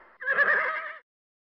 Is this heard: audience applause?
no